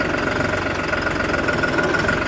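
A four-wheel-drive tractor engine running in gear, a loud, steady rhythmic throb and rumble that stays constant and close throughout.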